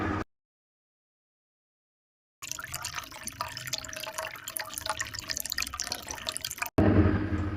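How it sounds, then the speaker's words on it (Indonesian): Running water rinses skin after a chemical spill, a steady splashing patter that starts after a stretch of silence and continues for several seconds before a brief louder burst at the end. "membilas area yang terkena bahan kimia menggunakan air mengalir"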